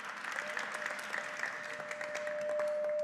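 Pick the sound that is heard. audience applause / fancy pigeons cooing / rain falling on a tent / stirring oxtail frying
audience applause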